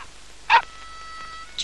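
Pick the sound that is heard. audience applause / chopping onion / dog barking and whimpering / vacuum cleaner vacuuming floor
dog barking and whimpering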